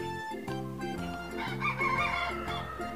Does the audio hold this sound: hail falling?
no